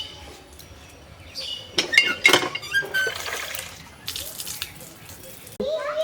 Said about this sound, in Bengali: এখন চালটাকে ধুয়ে নিয়ে যাচ্ছি।